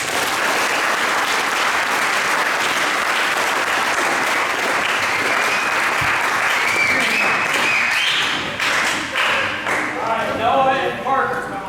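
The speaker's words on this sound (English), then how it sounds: "let's give them one big round of applause" Sustained applause fills a football banquet hall, a dense steady clatter of many hands, with voices and cheers rising toward the end as the clapping thins and breaks up.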